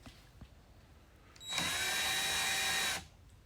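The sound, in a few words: power drill loosening Jeep Wrangler headlight bolt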